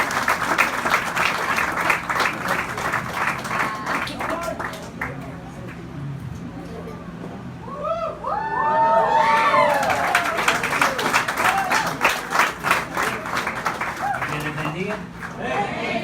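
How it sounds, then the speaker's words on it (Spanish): A church congregation at an evening service applauds a visiting preacher with loud, sustained clapping from many people. Midway the clapping thins and voices call out, then the applause surges back strongly. "Un aplauso para el hermano que predica esta noche"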